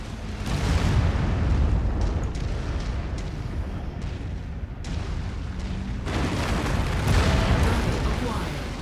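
Booming explosions as a target is destroyed in MechWarrior 5: Mercenaries, several loud blasts with crackling debris and deep rumbles, a quieter lull in the middle before another big burst, with a voice faintly present.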